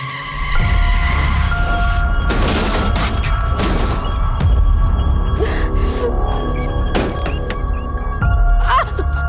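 A car skids hard under sudden braking while driven on a road, with broad crashing bursts and a sustained screech-like tone running loud and close through most of the moment.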